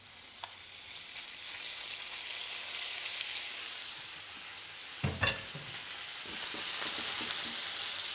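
Beef steak fries in a hot pan with oil and butter, giving a close, steady sizzle that swells slightly, with a brief clatter partway through and no talking.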